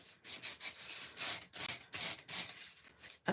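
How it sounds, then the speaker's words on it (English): A nail file rubs lightly across an embossed gold foil painted surface, a close, raspy scratching in quick irregular strokes with brief pauses between them, heard on its own. "you're just going to sand very lightly"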